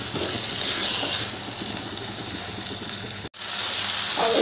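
Boiled chickpeas and potatoes with spices and a splash of water being stir-fried in a pan give off a steady, close sizzling hiss that drops out briefly near the end, then resumes.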